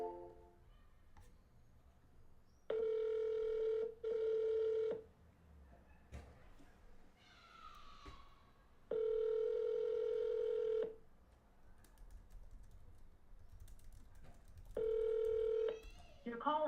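Phone call to a seller: a buzzing telephone ringback tone repeats in long bursts of one to two seconds with quiet gaps between, clear and near, plus a few faint clicks.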